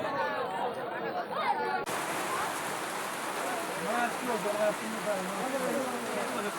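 Steady heavy rain patters on surfaces throughout at a hilsa fish landing ghat, with a person talking over it after a brief quieter start.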